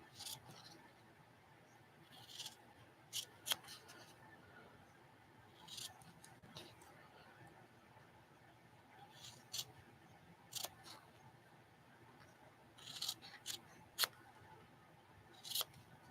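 Scissors trimming fabric around the edge of a freshly sewn bottle sling, with sharp intermittent snips in small clusters, close and fairly quiet over a low room hum.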